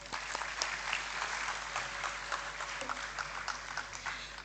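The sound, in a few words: audience applause welcoming speakers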